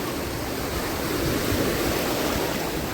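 Sea waves at high tide on a full-moon day at Diu beach, a continuous loud roar of surf with no gaps, heard alone.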